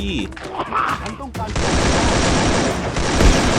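Gunfire in a shooter video game, a dense continuous burst of rapid loud shots after someone speaks briefly at the start.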